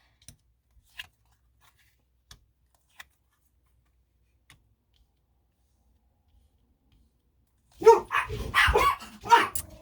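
Two indoor dogs, upset by noises outside, break into a burst of loud, close barking near the end, after a long near-silence broken only by faint scattered clicks.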